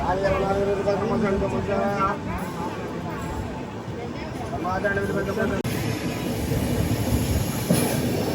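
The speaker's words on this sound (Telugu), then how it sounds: "వచ్చింది, ఆగింది, బయలుదేరుతుంది బండి." Tirumala Express pulling out of Vijayawada Junction, heard from inside a crowded general coach: rumbling wheels and rail clatter with squeals building as the train departs, with people talking loudly over it.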